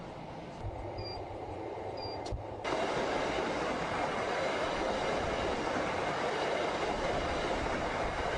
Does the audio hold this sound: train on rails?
yes